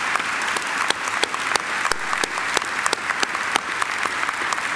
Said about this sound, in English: Can we all please give them a big round of applause?